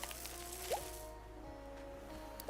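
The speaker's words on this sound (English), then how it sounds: "Gotta water these flowers." Water pours onto flowers in the Hello Kitty Island Adventure video game, a soft steady trickle with a couple of brief chiming game sounds over low background music.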